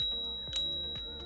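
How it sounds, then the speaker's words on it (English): A small handlebar bell on a Dualtron Mini electric scooter gives a single bright ding that rings out and decays softly. "a fun little bell"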